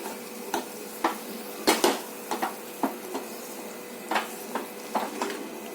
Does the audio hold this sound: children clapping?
no